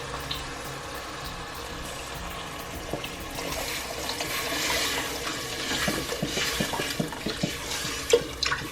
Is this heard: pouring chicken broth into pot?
yes